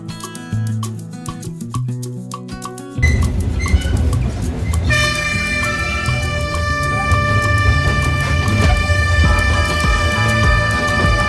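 A ride train at the Mysuru train museum gives a few short toots, then rolls on with a loud, steady rumble layered with sustained ringing tones.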